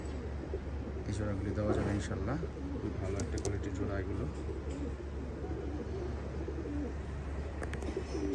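Pakistani high-flyer pigeons, including teddy birds, coo steadily over a constant low hum, with a few brief chirps; someone talks throughout.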